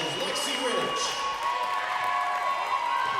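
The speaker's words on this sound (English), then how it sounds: "she receives an ovation from the crowd" Crowd applause and cheering at a women's college basketball game as a senior player breaks a scoring record, steady ovation filling the gym throughout, with a commentator's voice over it.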